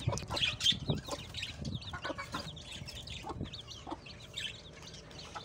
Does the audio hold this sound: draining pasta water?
no